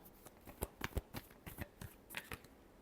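Tarot cards are shuffled in a quick, irregular series of soft riffling slaps and flicks, close and quiet, with no talking.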